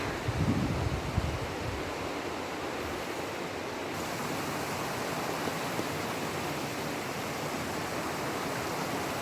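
A fast mountain brook in Zakarpattia tumbles down from the hills into a river, making a steady, dense rushing wash of water that stays close and loud from start to finish, with no voices over it.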